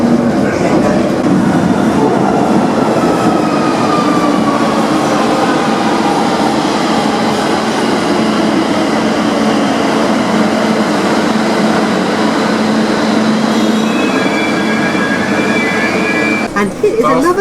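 A train rumbles steadily and loudly past at a train station in Barcelona, with continuous rolling noise and faint screeching tones throughout.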